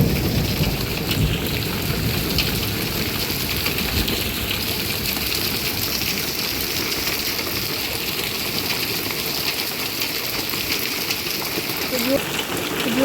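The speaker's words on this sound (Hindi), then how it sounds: "ये कुछ मौसम के हाल, ओले पे ओले पड़ रहे हैं।" Hail pounds down steadily during a thunderstorm, a dense continuous patter and hiss on surfaces with low rumbling underneath, loud and unbroken throughout.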